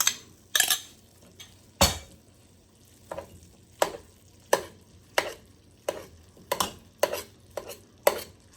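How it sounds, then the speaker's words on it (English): Cooked rice stirred into a stuffed pepper filling in a pan with the heat off, a run of about a dozen sharp spoon scrapes and clacks against the pan at an uneven rhythm over a faint background; no speech. "add the cooked rice and mix that up"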